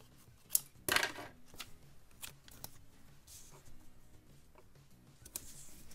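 Scissors snip through the top of a paper sticker sheet in a few quick, close cuts, followed by light rustling and tapping of paper on a desk, quiet and without talk.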